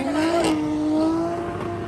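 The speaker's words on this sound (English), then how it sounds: "Chelsea Denofa's hitting it in the RCR Mustang" An RCR Ford Mustang race car is driven hard at a drift event, its engine holding a loud, sustained, strained note with a slight pitch rise and fall and a gritty edge of tire noise.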